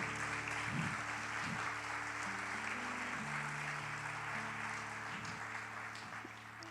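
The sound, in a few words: audience applause in church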